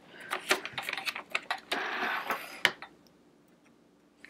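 Sewing machine stitching a quilt block, a quick irregular series of mechanical clacks and whirring bursts, with a brief back stitch and a final sharp click before quiet.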